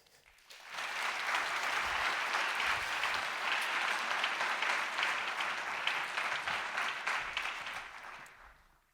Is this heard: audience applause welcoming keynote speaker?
yes